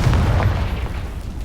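A single deep booming blast from the Confringo spell in the Hogwarts Legacy video game, loud and close with a heavy low rumble that fades over about a second.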